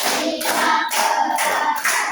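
Schoolchildren clap together in a counted classroom routine, several strong rhythmic bursts of many hands at a steady beat, loud and near, with no voices.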